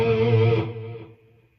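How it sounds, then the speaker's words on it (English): Electric guitar played through an Atomic Amplifirebox 2 with delay and a slight plate reverb, a sustained chord ringing out and then trailing off into a soft, fading echo tail. "This has a slight plate reverb, but the delays in this thing are just sublime"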